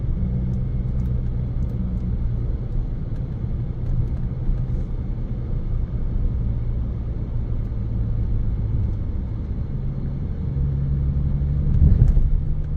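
A 2014 Bentley Continental GTC Speed cruising with a constant low cabin rumble of engine and road, ending in a brief heavier thud and jolt near the end as the car rolls over a big bump.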